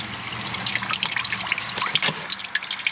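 Water trickles and drips from the windscreen washer pump seal of a Jaguar XF during pump replacement, a close, irregular patter of splashes and dribbles continuing throughout, with no speech.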